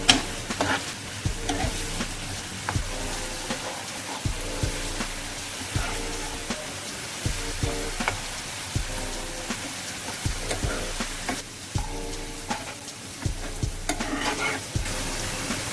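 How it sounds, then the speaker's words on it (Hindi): Onions frying and being stirred in a pan, cooked for a soya keema, with a steady close sizzle and repeated scraping knocks of a spoon throughout, no talk. "प्याज को ब्राउन होने तक अच्छी तरह भूनेंगे।"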